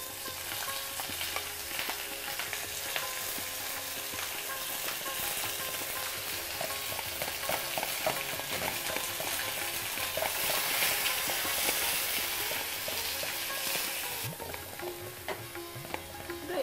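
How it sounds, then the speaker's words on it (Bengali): Half a cup of onion paste sizzles and crackles in a pan for a chicken roast, a dense, steady frying hiss with occasional stirring scrapes, close and unbroken throughout. "এরপরে পেঁয়াজ বাটা দেবো। এটা একটু লাল হোক।"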